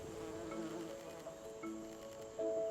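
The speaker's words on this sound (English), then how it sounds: "so these are carpenter bee. They are important pollinators." Carpenter bees buzz close by outdoors, a steady insect drone with wingbeat tones that rise and fall as they move, with no talking over it.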